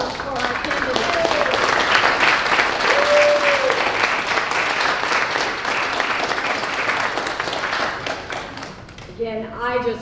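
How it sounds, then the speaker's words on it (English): An audience at a candidates forum applauds a city council candidate in steady, dense clapping that lasts about nine seconds, then fades as a voice starts speaking. "Round of applause for our candidate."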